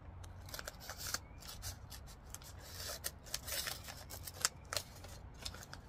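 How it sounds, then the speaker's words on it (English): Tiny small scissors snipping at close range during pot decorating, a quick irregular series of crisp metallic clicks and cuts, quiet and alone. "These may be my niece's scissors."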